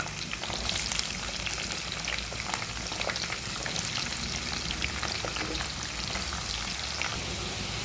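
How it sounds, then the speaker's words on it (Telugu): Cut vegetable pieces deep frying in hot oil, giving a steady, dense crackling sizzle that runs unbroken throughout at close range with no talk. "కట్ చేసుకున్న ముక్కలు డీప్ ఫ్రై చేసుకోవాలి."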